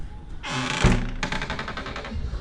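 A door swings and bangs shut with a solid thunk, followed by a rattling, knocking settle, heard at close range in a domestic setting over steady background noise.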